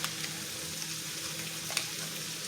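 Lamb frying in butter and oil in a pan, a steady close sizzle and crackle with small pops throughout, no voices.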